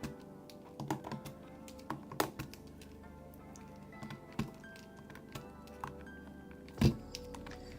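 Typing on a mechanical keyboard fitted with tactile Cilantro switches, a run of sparse, irregular clacks with a fairly deep tone, close and quiet, with one heavier thump near the end and no voices.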